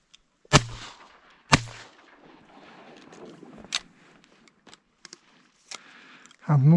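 Two loud, sharp shotgun blasts about a second apart during duck hunting on open floodwater, each cracking out and fading, followed by quiet rustling, faint voices and a gust of wind noise at the end.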